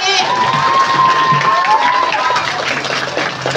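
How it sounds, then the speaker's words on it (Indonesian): Children at a religious gathering clap and cheer for their teacher, a dense, lively burst of applause with excited young voices throughout. "tepuk tangan dong buat Bu Sri"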